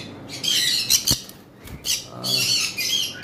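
Harsh parrot squawks from a breeding pair of eclectus or conure parrots, several loud bursts in quick succession with short gaps, close by and with no talking.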